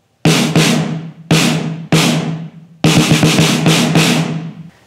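Ludwig Black Beauty snare drum, freshly tuned with lug locks fitted, struck alone in five loud, crisp hits, two quick pairs then a final flurry of rapid strokes, each with a bright ringing decay.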